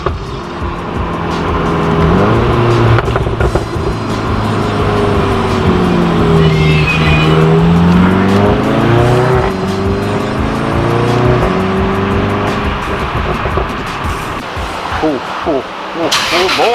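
Volkswagen Golf R driven hard on a back road, engine note rising and falling through gear changes with steady road and tire roar, loud and close from inside the car, voices occasionally audible over it.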